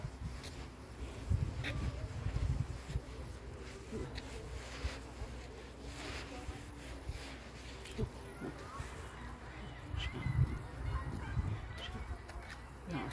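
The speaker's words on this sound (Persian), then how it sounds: "صدای غاز رو میشنوی؟" Distant honking of geese near Wilcox Lake, Richmond Hill, Canada, comes and goes in a few bursts over low rumbling background noise, with faint voices nearby.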